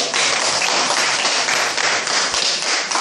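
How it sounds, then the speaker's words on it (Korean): A church congregation bursts into sustained, loud applause, dense clapping filling the hall from start to finish. "하나님께 영광의 박수를 드리겠습니다"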